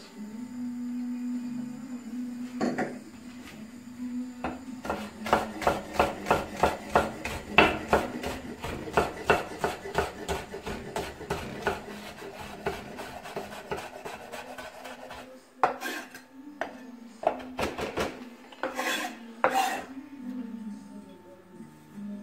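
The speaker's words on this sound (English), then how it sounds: "to chop up our ingredients" A knife chops ingredients for prawns with mussels in white wine and tomato, a run of quick, close, sharp taps on a board over a low kitchen hum, then a few scattered knocks.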